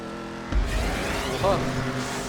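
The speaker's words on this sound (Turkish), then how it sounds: "Arabadan vırr diye ses çıkıyor oğlum patlayacak" A car engine in GTA 5 whirs and revs steadily, rising briefly midway, with talking over it.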